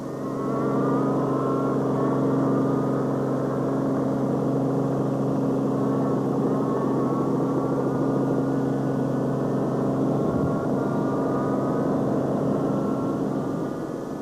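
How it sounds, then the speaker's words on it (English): A Volkswagen rally car drives flat out on a 2007 rally stage, its engine droning loud and continuous with rising and falling revs through gear changes for the whole stretch. "Jan Habig and Douglas Judd found the handling of their car much more to their liking on day 2 and were flying"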